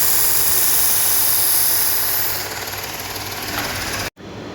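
Steady loud whine and grinding of a knife blade held against a bench grinder wheel, continuous for a few seconds, dipping slightly in pitch partway, then cutting off abruptly.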